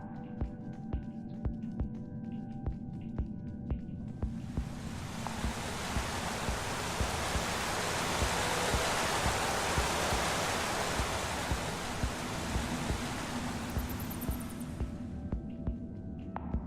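A waterfall in Minecraft Story Mode, a broad steady rush of falling water swelling up after a few seconds and holding loud and even, then easing back, with faint ticking game sounds around it.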